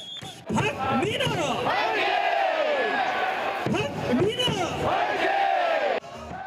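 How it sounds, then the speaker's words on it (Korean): A baseball crowd cheering along with the NC Dinos cheer squad in 2018, a loud massed chant rising and falling in unison with a few sharp thumps, continuous and energetic before cutting off near the end. "모두 일어나 율동과 함께 열정적인 응원이 펼쳐집니다"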